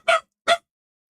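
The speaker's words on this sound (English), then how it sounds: "Sorry about the barking." Dog barking twice in quick succession, two short sharp barks close by, then silence.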